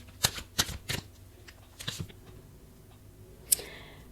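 A deck of tarot cards being shuffled, a few sharp riffling bursts close up and quiet, separated by pauses, with a final crisp flick near the end.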